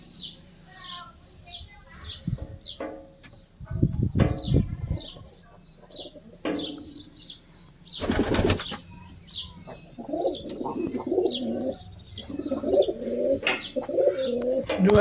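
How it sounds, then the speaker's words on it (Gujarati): Pet pigeons coo in low, repeated throaty calls close by, with bursts of wing flapping and scattered chirps. Faint voices are heard now and then. "તો જો મારા કબૂતર"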